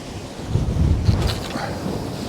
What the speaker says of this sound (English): that wind's quite strong from right to left